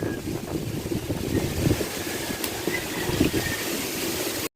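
Strong typhoon wind roars and buffets steadily across the microphone, a loud continuous rushing with gusty surges and no voice over it.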